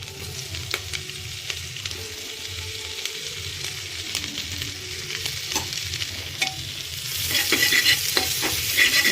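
Chopped garlic and ginger sizzle in hot oil over tempered spices for a chicken stew, a steady close frying hiss with scraping stirs and utensil knocks, growing louder and brighter toward the end.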